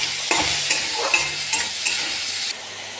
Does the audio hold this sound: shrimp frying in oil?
yes